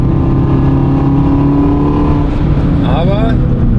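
An Abarth race car on a wet track at Bilster Berg drones with a loud, sustained engine note heard from inside the cabin, pitch sliding near the end, while someone talks over it.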